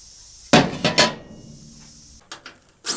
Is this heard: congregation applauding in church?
no